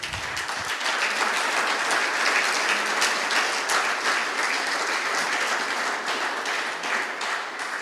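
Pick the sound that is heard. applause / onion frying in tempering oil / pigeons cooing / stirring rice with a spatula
applause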